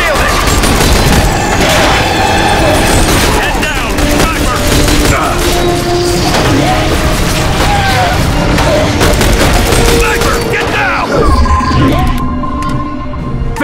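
An artillery barrage in The Bureau: XCOM Declassified brings a long, loud stretch of booming explosions and rattling gunfire with no letup. Shouted combat voices cut in over the din.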